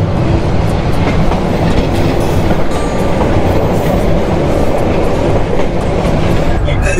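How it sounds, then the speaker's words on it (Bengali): The Teesta Express train rolls through a railway gate in a loud, continuous rumble with rhythmic wheel clatter on the tracks, heard close up from alongside the line. "ট্রেন বেরিয়ে যাচ্ছে"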